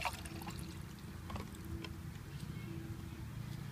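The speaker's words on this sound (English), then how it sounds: "I pour the water in." Water poured from an open drinking bottle into a can holding fuel, packed as part of a get-home survival kit; a soft, steady liquid pour and trickle runs throughout at close range, with faint handling noises.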